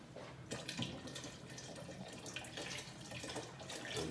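Water pours from a tomato can into a pot of lamb ragu sauce, a quiet, continuous splashing trickle close up for a few seconds with no talk.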